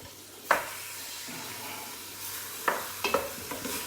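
Diced beef for goulash frying in a pan, with a soft steady sizzle broken by a few sharp clacks and scrapes of stirring, moderately close and with no talking.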